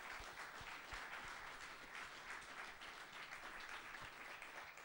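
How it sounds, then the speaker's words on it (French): An audience applauding a performer at a French television show, a steady wash of many hands clapping at moderate distance, continuous for several seconds and fairly quiet. "vous pouvez l'applaudir encore une fois"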